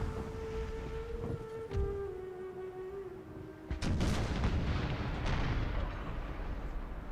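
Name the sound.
naval cannon fire in video game Napoleon Total War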